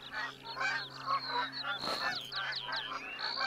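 Geese honking in theHunter: Call of the Wild, a steady stream of overlapping honks from a flock, fairly faint and distant, with one brief burst of noise midway.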